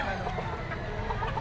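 Chickens clucking at a busy poultry market in Lipa, Batangas, several birds close by in a dense, continuous chorus of short clucks over crowd background.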